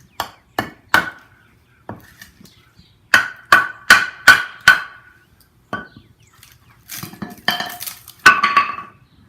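A wooden baton knocks a plastic felling wedge into firewood in a series of sharp, close knocks. Several blows come in quick clusters with pauses between them, followed by a few crackling, splintering hits near the end.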